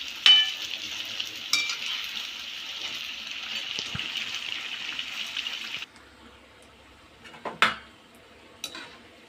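Bajji fritters fry in hot oil with a steady, hissing sizzle for several seconds that suddenly stops, followed by a few clinks and scrapes of a utensil against the pan.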